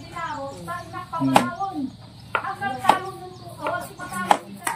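A knife slices through bamboo ham, giving three sharp, close cuts spaced about a second and a half apart while people talk steadily over them.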